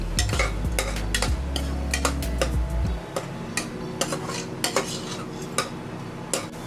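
A ginger, garlic and green chili paste stirred into sautéed onions in a pan, with repeated clinks and scrapes of a spoon against the metal and a soft sizzle underneath.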